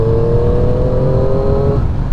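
A new Triumph 675 motorcycle with 183 km on it pulls at about 4,000 RPM in 5th gear, its intake and engine producing a loud, close, steady drone that climbs slightly in pitch.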